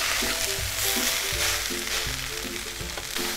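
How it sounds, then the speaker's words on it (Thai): Rice fried with Thai shrimp paste in a pan gives a loud, continuous sizzle, with rhythmic scraping and clanking of a spatula as the mixture is stirred. "ผัดให้กะปิกับข้าวเนียนเข้ากันดีนะคะ"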